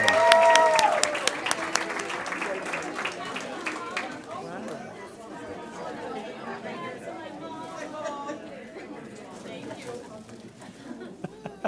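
A trustees' board meeting audience applauds newly named board members, loud clapping at first that thins into scattered claps under crowd chatter and nearby voices.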